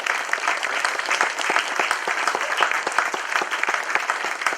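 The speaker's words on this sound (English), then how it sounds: "So I think you should give yourselves a round of applause in the club." Club members at a minor hurling homecoming applaud themselves, a loud, close round of clapping with distinct individual claps throughout, steady from start to finish.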